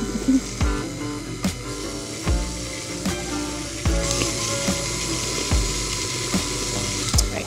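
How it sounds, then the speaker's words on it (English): A stand mixer beats brownie cookie dough with brown sugar and vanilla extract, giving a steady whirring hum with regular rhythmic knocks roughly every 0.8 seconds, loud and close, with no talking. "And we're gonna mix away."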